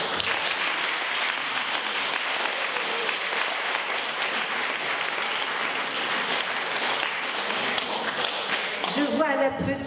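An audience at a foundation talk applauds after a presentation, sustaining a dense, even wash of clapping for nearly ten seconds before a voice starts speaking at the very end.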